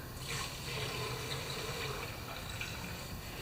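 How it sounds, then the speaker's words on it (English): One-year-old fuel flowing out of the carburetor on a Craftsman lawnmower with a Kohler engine, a soft continuous trickle and splash of liquid, faint and steady against a low background hum. "now we'll see if we get flow out of the carburetor"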